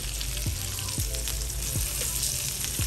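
Freshly flipped hamburger steak patties with a charred crust sizzle steadily in a hot pan, a close, even frying hiss broken by a few soft bumps.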